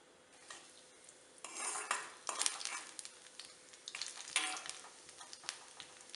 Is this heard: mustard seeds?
yes